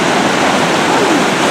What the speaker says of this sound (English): Alright, so this is going to be National Creek Falls.